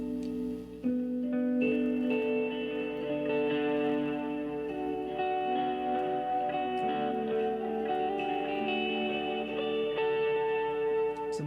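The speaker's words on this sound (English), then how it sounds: "Let me just play it for you again so you can hear how magical that halo delay is." Electric guitar played through a Halo delay pedal: sustained chords and notes bloom into long, shimmering repeats that smear together into a continuous ambient wash, steady and fairly quiet throughout.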